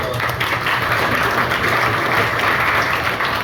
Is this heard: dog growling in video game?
no